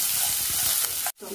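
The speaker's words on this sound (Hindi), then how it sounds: "लाल मिर्ची 1/2 छोटी चम्मच और यहाँ पे लिए चिली फ्लेक्स मैंने और अच्छे से मिक्स करेंगे।" Oil sizzles steadily in a pan as red chili powder and chili flakes are stirred into soya Manchurian, a continuous close crackle that cuts off abruptly near the end.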